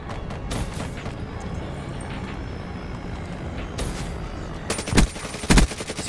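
Bursts of VMP submachine gun fire in Black Ops 3 multiplayer, with scattered shots early and two loud, rapid sustained volleys near the end over steady game ambience.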